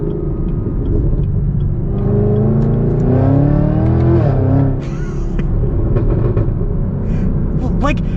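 A 2023 Chevy Camaro ZL1 engine revs hard, pitch climbing and falling in loud, rumbling sweeps before settling back to a throaty idle.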